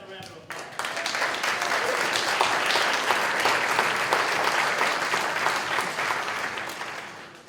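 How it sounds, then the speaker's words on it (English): Audience applause at an MLK Day celebration, starting sharply and holding as a loud, dense wash of many hands clapping for several seconds before easing slightly at the end. "Give them another round of applause."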